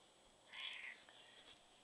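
A black cat gives a single short, clear meow near the middle of an otherwise quiet indoor scene, with no talking over it.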